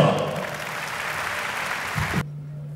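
Audience at an Orphans Day event applauds the Speaker of the National Assembly, a dense, steady wash of clapping that cuts off sharply near the end, leaving a low hum.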